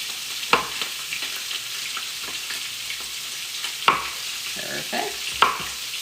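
Vegetables sauté in a hot pan, a soft continuous sizzle broken by several sharp clattering tosses and stirring scrapes, close and moderately loud with no talking.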